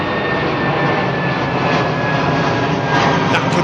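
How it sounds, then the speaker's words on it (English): A Hawker Hurricane flying overhead on the south coast of the UK, its piston engine giving a steady, sustained drone at moderate distance with no talking. "Hawker Hurricane flying on the south coast of the UK."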